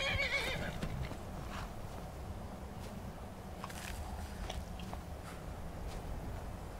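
A horse in the video game Skyrim whinnies loudly at the start, then its hooves keep clip-clopping steadily over a constant ambient bed, with no talking.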